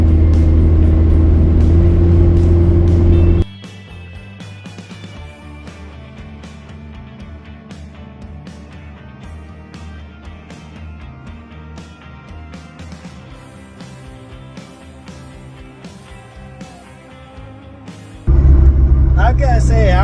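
A Honda Civic being driven, its engine and road noise loud and close at the start and end, with a quieter stretch of muffled drive between where tonal sounds take over.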